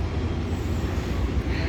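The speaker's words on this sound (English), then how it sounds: "Decently long train." A long train rumbles steadily past near Ottumwa, Iowa, a low, continuous mechanical drone heard from nearby with no distinct clatter standing out.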